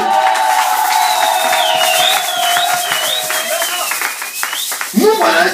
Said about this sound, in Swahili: Shangilia Bwana na makofi na vigelegele.